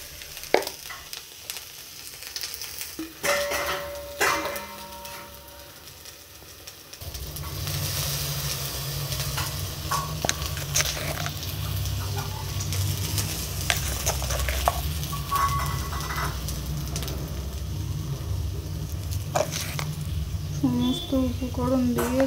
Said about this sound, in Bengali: সমস্ত উপকরণ দিয়ে একটু ভালোভাবে ভেজে নেব।